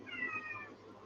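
A house cat meows once in the background during a tabletop Dungeons & Dragons session, a short, quiet wavering cry lasting under a second with no one speaking over it.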